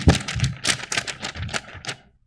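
Sheet of paper crumpled and crinkled by hand in a church setting, a dense run of crackling rustles for about two seconds before it stops, close and fairly loud with no talking.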